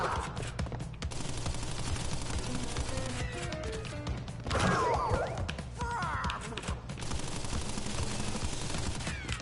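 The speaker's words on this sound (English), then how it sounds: "He just starts out opening fire." A boss in the video game Crash Bandicoot N-Sane Trilogy opens fire with sustained rapid gunfire under a busy game soundtrack, plus a louder crashing burst partway through.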